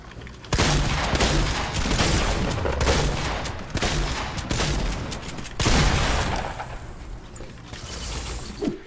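Gunfire in the video game Fortnite: loud bursts of rapid shots in several volleys, with brief pauses between them and a mechanical rattle, no talk over it.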